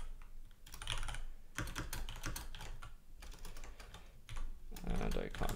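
Bursts of fast typing clatter on a computer keyboard at close range, broken by short pauses, with a voice talking softly underneath.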